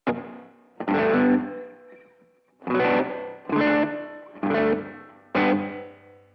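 Guitar chords played through an Alexander Pedals Rewind echo pedal on its diffuse delay algorithm with reverb, five distinct strummed bursts each trailing into smeared repeats, close and dry of any voice.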